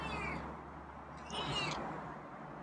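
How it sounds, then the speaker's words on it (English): A cat meows twice, faint and somewhat distant, the second cry a bit longer and louder, with quiet background hum between. "Yeah, there's a meow. Oh, another meow."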